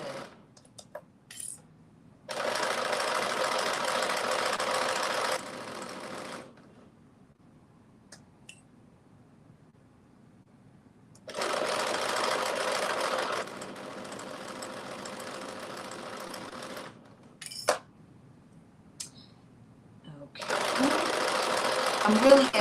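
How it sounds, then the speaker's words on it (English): A sewing machine top-stitching the sleeves of a drop-shoulder long-sleeve top runs in three steady, close, buzzing stretches of several seconds each, with quiet pauses and small clicks and handling noises between them. "I'm going to do both of the sleeves, and then I'm going to put those top stitches in"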